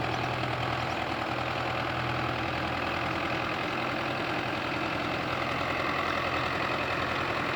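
A Belarus 510 tractor engine runs while puddling a field, a steady, close, continuous diesel drone with a knocking texture and no pauses.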